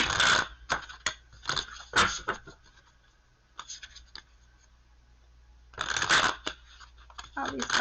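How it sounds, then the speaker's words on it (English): Tarot cards are riffled and shuffled in several quick bursts with quiet pauses between, close and fairly soft. "All these cards I want to shuffle."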